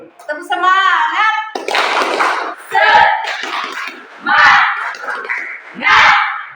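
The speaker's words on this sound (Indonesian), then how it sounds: "Sekali lagi, tepuk semangat." An Indonesian primary school class repeats its spirit clap routine, a teacher calling out before the children answer with rhythmic clapping and shouted chants in several loud, close bursts.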